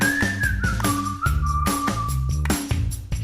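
A podcast theme tune is whistled as a clear, sliding melodic line over a steady rhythmic musical backing. It sounds loud and close and lasts a few seconds.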